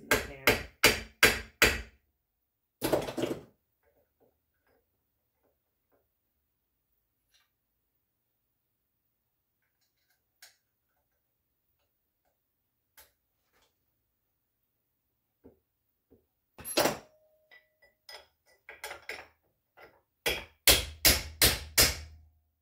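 A hammer strikes repeatedly while tightening a Ford Model T rear axle, bursts of sharp close metallic blows at the start and end with scattered light taps between.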